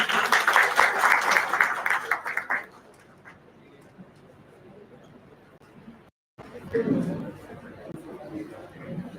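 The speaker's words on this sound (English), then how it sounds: "Please join me for a round of applause, everyone." Applause from a crowd at a hackathon for a couple of seconds, then fading into low room murmur before a voice begins speaking.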